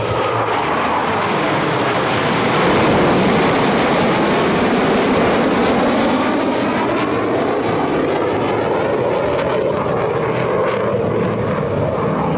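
US Navy Blue Angels jets pass overhead at an air show, a loud broadband jet roar that swells and then holds steady through the whole stretch with no voices over it.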